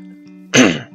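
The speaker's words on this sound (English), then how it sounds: "Sorry about any coughs, guys." A single short, hoarse cough from a man coming down with a cold, close to the mic and breaking into a quiet background hum.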